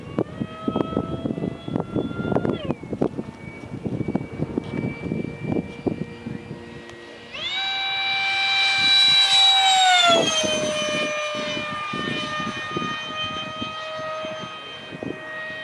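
A Super Sniper 90mm RC model jet whines with a high turbine tone, then swells loud and bright midway as it passes close, the pitch sliding and fading into a steadier rush.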